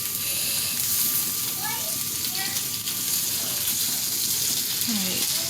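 Potatoes frying in a pan, a dense steady sizzle and hiss throughout while they are flipped, with voices, including a child's, speaking over it.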